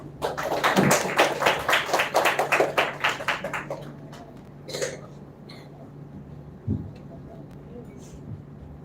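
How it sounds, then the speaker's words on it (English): A small audience at a children's literature festival claps for a young performer coming on stage, a quick run of fairly even claps for about four seconds that thins out, leaving a low steady hum and a few scattered taps. "Let's give a big round of applause for welcoming Harshavardhan to the stage"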